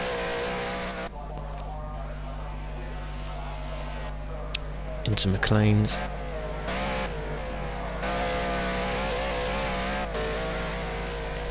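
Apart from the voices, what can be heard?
GT3 race car accelerating on track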